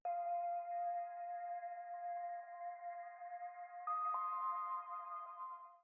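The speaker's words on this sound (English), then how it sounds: "So I did find this cool little bell type of sound in Splice." A bell-type sample from Splice rings with sustained, pure, sonar-like tones that hold steady and then step up to a higher pitch, clean and soft with no other sounds.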